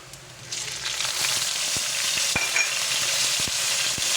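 Chopped tomatoes go into a pan of sizzling, lightly browned sautéed aromatics, raising a steady loud frying hiss punctuated by sharp spatula clicks and stirring taps.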